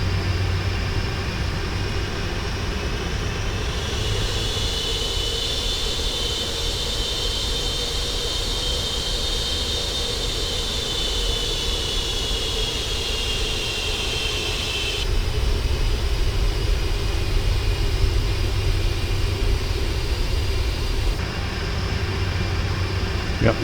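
Airliner jet engines spool up for departure in the Prepar3D flight simulator with a continuous, loud roar and a whine that rises, holds and then shifts, steady with no talking.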